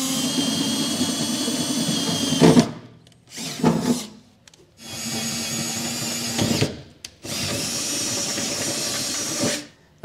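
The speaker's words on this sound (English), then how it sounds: "using a 9/16 drill bit, we'll just go through" A power drill with a 9/16 bit bores holes through a 2015 Chevrolet Silverado truck bed in several bursts of a few seconds each. The whirring, hissing grind is loud and close, with short pauses between holes.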